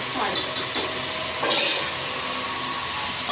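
Chicken frying in a pan for chicken fry, a dense close sizzle with a few quick scraping stirs near the start, no voices.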